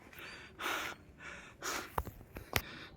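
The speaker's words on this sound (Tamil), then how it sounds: "ரொம்ப மூச்சு வாங்குது பாருங்கள்" A climber pants heavily on steep, rain-soaked Thavalagiri Hill, with three or four long, loud, breathy exhalations close to the mic followed by a couple of quick sharp gasps.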